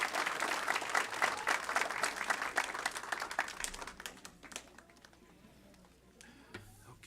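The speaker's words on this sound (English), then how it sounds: "Let's give Hayden a nice round of applause." A city council meeting audience applauds in a dense round of clapping that gradually thins out and fades over several seconds.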